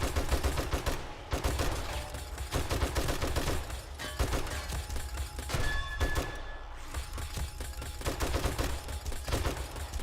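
Turrets fire constantly in the 7 Days to Die game, a dense, loud rattle of overlapping gunshots that keeps going throughout with no pause.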